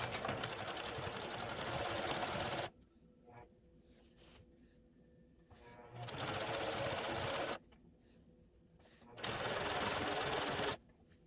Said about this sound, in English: So now I just finished the top stitch for the whole outside